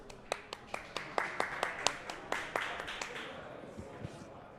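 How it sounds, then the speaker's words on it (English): Audience at a Solana Consumer Day conference applauds to welcome the first speaker after a break: a scattering of sharp, distinct claps rising into moderate applause, then thinning and fading over a few seconds. "Please give a round of applause, please, for our first speaker after the break"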